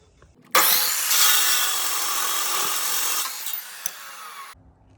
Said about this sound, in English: we're gonna take this socket, we're gonna cut a little bit of the end off